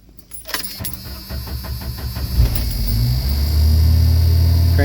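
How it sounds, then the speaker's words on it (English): Jeep Wrangler YJ engine cranking and catching after an ignition relay replacement: brief rhythmic starter churn, then the engine fires and settles into a loud, steady idle up close. "she is starting up like a champ now"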